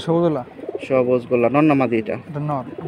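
Repeated soft pigeon coos, close and clear, in a rhythmic series of throaty calls, at a pigeon sale.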